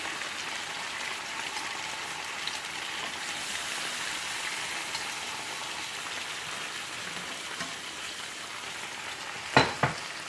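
Chicken fries in a pan with a steady, even sizzle and crackle throughout, loud and close, with no talk and a couple of brief clicks near the end.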